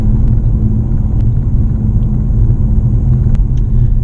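Mitsubishi Outlander PHEV driving on the road, a steady low rumble of road and tyre noise heard from inside the cabin, loud and continuous with no talking.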